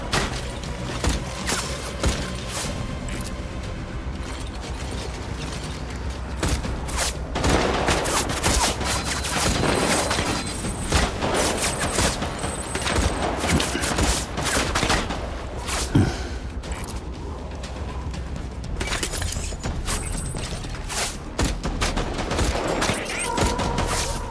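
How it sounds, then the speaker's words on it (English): Gunfire in Death Stranding keeps crackling in rapid, irregular bursts and single shots throughout, mid-distance to close, with occasional heavier booms over a busy game soundscape. "How are they still shooting me?"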